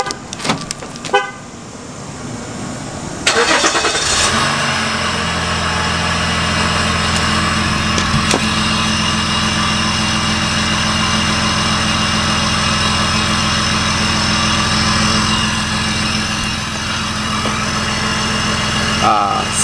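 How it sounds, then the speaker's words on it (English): A diesel pickup truck cranks, fires up and settles into a loud, steady idle with a low rumble that holds for more than fifteen seconds. A brief higher chirp or toot comes near the start, and some talk is heard. "I'm gonna start it up for you guys here."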